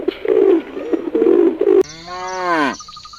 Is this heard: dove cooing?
yes